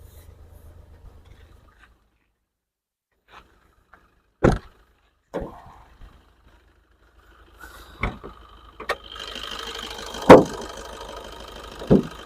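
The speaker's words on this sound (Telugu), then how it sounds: "బీటింగ్ చూడండి, చాలా సైలెంట్గా స్మూత్గా ఉందండి బీటింగ్ అయితే" A Maruti Suzuki Baleno Alpha with push-button start: a few scattered clicks and thumps, then the engine settles into a steady, quiet idle hum with occasional sharp knocks close by.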